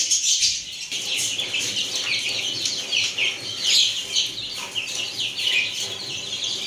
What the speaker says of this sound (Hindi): मुर्गी को अंदर ले आते हैं और उसको पानी और फीड अंदर ही डाल देते हैं।